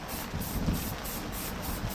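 Rust-Oleum gloss black spray paint hisses steadily from an aerosol can onto a car's front bumper support mounted on a tripod, a continuous close broadband spray without pause or voices.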